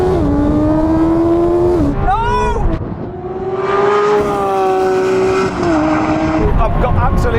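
A Suzuki Hayabusa superbike and a Lamborghini Aventador SVJ drag race. A loud, close engine wail climbs through rising pitch sweeps with shifts in between, and a voice talks over it.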